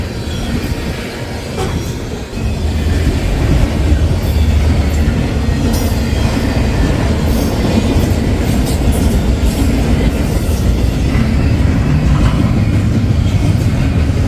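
A CPKC freight train rumbles past on the rails, a loud continuous roar with clattering wheels and faint metallic squeals, close by and unbroken throughout.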